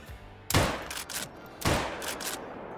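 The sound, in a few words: rifle gunshot in video game Call of the Wild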